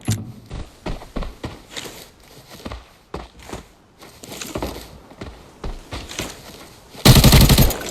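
Rapid bursts of gunfire in Arena Breakout, automatic weapon rattles in short volleys with a loud sustained burst near the end.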